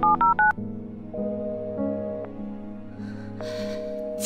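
A telephone number is keyed in: a quick run of short dial-tone beeps, followed by a steady, sustained tone of the line connecting.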